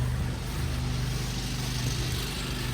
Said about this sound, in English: The engine's going to be loud, so you may not hear me